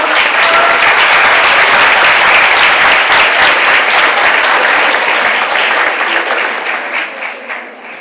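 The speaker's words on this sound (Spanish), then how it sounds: "Un fuerte aplauso para este gran comienzo." An audience at a student-centre talk breaks into loud, dense applause from a crowd of many clapping hands, sustained for several seconds before thinning and fading toward the end.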